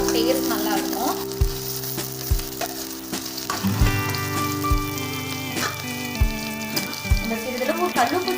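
Onions fry and sizzle steadily in a pan while gravy is being made, a continuous close crackling hiss with occasional stirring scrapes and light knocks.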